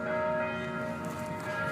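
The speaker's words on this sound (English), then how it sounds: "Do you hear those wedding bells?" Wedding bells ringing, sustained tonal chimes with lingering overtones that fill the short moment steadily and loudly, with no voices.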